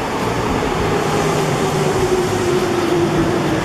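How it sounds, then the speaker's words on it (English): A train pulls into a station in Japan, producing a steady, fairly loud rumble of wheels and motor with a slowly falling whine running beneath it for the whole stretch. "I'm curious to see how on time this train is"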